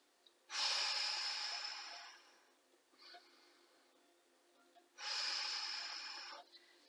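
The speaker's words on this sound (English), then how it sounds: "2 big breaths." Two big breaths during Hatha Yoga's Five Tibetans: a long forceful exhale rushes out, a brief quiet catch follows, then a second strong, airy breath of similar length, heard up close with no voice.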